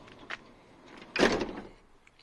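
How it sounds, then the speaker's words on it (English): Sliding side door of an electrician's work van opening, a brief click followed by a short rolling slide and thump, close and fairly quiet. "We got our sliding door here."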